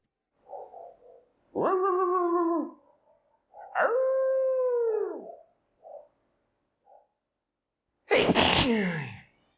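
A dog gives several drawn-out, wavering howls with short pauses between them, then one sharp, harsh bark at the end, all close and loud against otherwise quiet surroundings.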